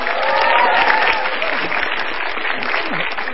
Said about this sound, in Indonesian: tepuk tangan sekali lagi buat Mas Iwel